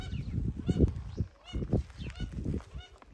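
Hoarse, breathy hissing and low honking calls from a male Muscovy duck, close by, repeated in irregular bursts with short pauses between them.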